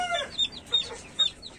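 Chickens cluck in a backyard coop with chicks nearby, short sharp clucks in three or four separate bursts, close and fairly loud over a quiet background.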